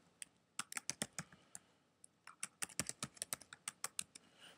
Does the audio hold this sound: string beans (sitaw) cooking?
no